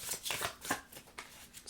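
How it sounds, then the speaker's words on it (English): A deck of tarot cards is shuffled close up, with quiet riffling bursts and soft slaps repeating irregularly, faint and with no talk. "Me not learning my lesson and shuffling this cards the same way again."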